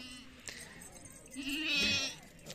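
A young goat kid, a cross between a Sindhi doe and a Beetal buck, gives a couple of close bleats, the longer one near the end, with someone talking quietly around it.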